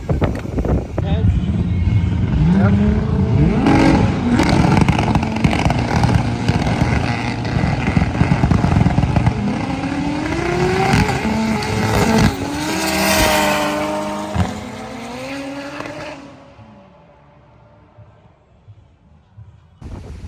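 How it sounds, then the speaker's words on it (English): Race car engines roar and whine as they speed past, pitch rising and falling, with people talking nearby before the noise fades away. "Now we just watch some racing."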